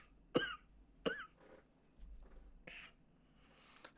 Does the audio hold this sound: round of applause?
no